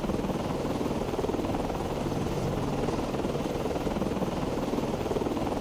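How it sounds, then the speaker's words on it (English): A helicopter launches from a ship in the naval video game Cold Waters, its rotor producing a steady, rapid, even thudding drone that stays constant and prominent with no talk over it. "Let's try this with the helicopter then. Com, Flyco, aircraft ready to launch."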